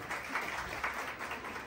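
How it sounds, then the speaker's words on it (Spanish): Guests applauding at a fifteenth-birthday party in Guatemala: a brief, steady patter of many hands clapping, soft and fairly distant, with no voices over it. "Y un fuerte aplauso de todos, por favor."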